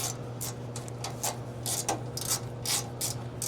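A wrench loosens 5/16 bolts on a Harman XXV stove, giving a series of quick, close ratcheting clicks in short irregular bursts over a low steady hum.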